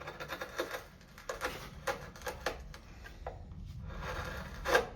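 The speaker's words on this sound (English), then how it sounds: "if we start again with the big gouge" A big gouge cuts a pocket hole into wood, giving a series of quiet, irregular dry taps and short scraping strokes, close up with faint room hiss between them.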